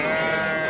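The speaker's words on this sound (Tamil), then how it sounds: "செம்மறி ஆடு" A single loud, close sheep bleat at a goat market in Natrampalli, Tirupattur district, one short sustained wavering call.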